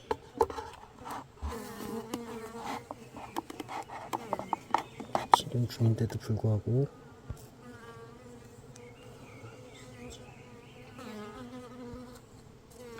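Korean native honeybees hum and buzz around hives at a 600 m mountain apiary where sacbrood disease is spreading. A steady insect drone continues under a man's speech, with louder handling noises around the middle.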